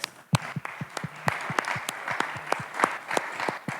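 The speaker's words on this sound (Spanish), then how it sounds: "Un aplauso, por favor, para Pablo." An audience at a data congress in Mexico City applauds, a moderately dense burst of clapping with distinct individual claps standing out, steady and close for a few seconds.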